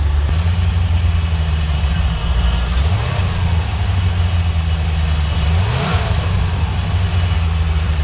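Engine of a 1991 C4 Corvette revving with throttle blips, a steady loud idle rising twice in pitch before settling back, close and alone.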